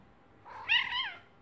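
A single drawn-out meow from an aggressive, determined cat, rising and then falling over about a second, fairly close against a quiet background.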